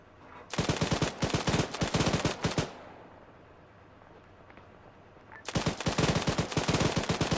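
Loud rapid bursts of automatic gunfire from an aircraft gun run in a military video game, two long strafing volleys separated by a few seconds of low rumbling quiet.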